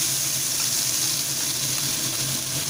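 Ground ginger and cumin paste hitting a hot tempering of oil and spices in a pan, giving a loud, steady hissing sizzle that holds evenly throughout.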